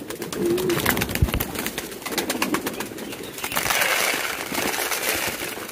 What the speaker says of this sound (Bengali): দেখেন দেখেন কি পরিমাণ কবুতর চলে আসছে